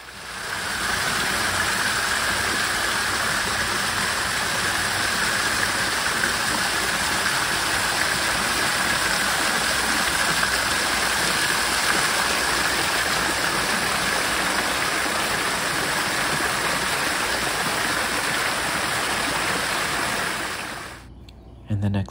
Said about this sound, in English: a stay at the Hyatt Hill Country would not be complete without enjoying the waterfall hot